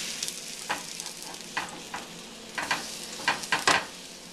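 Homemade zucchini cakes frying in a pan, a steady close sizzle with scattered louder pops and spatters that cluster toward the end.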